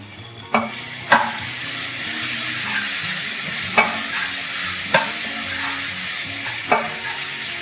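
Prawn biryani masala with coriander and mint sautéing in a kadhai, a loud steady sizzle punctuated by six sharp clanks of a spoon scraping and stirring the pan, with no voices.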